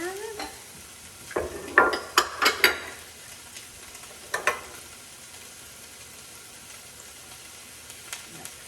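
Ham drops into a pot of black-eyed peas cooking: a few soft clatters and scrapes of stirring over a faint sizzle, then quieter frying with occasional light knocks, no speech.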